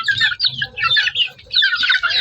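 A Maclean Hatch gamefowl rooster in a backyard clucks nearby in rapid, loud, continuous bursts with short pauses between them.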